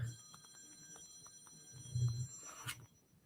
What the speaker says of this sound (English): The bat phone.